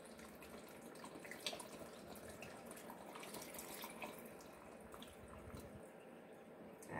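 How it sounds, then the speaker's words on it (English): Water is poured into a blender jar holding ginger, a close, continuous trickling and splashing that runs steadily for several seconds with no voices. "the last thing I'm gonna do is add my water"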